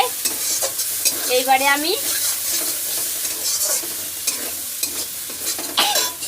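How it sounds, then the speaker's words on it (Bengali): Spices sizzle and fry in a pan for bhola fish curry while a spoon stirs them in scraping bursts; someone speaks briefly over the close cooking sounds. "এবার আমার মশলাটা দেখো সুন্দর করে কষানো হয়ে গেছে।"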